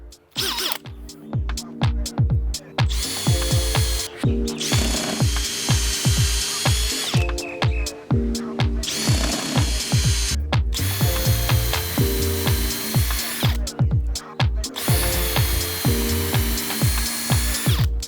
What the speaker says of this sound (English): You can just use a standard sized drill bit.